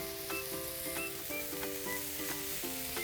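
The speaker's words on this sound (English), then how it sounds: "let's get our onions on the grill" Onions sizzle on a grill for a veg burger, a steady close crackle that runs throughout with sustained musical tones and soft repeating clicks layered beneath.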